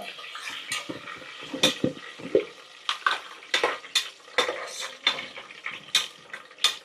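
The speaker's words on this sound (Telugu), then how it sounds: "పుదీనా, పుదీనా ఆయిల్లో కాస్త వేగనిచ్చిన తర్వాత" Mint leaves frying in hot oil in a home kitchen, with irregular stirring scrapes and utensil clinks over a faint sizzle, a run of short, fairly close bursts.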